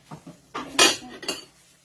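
A utensil stirs a boiling cooking pot, scraping and clinking against the metal a few times, short metallic strokes with brief pauses between them.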